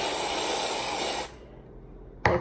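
Whipped cream sprays from an aerosol can onto a glass of Italian soda in a steady hissing burst lasting over a second, then a short sharp second spurt near the end.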